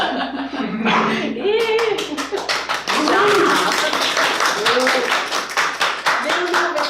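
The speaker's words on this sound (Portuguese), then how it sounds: "Você está sendo aplaudida, não vem?" An audience applauds: scattered hand clapping rises and continues, mixed with some chuckles and a voice speaking over it, moderately loud and close.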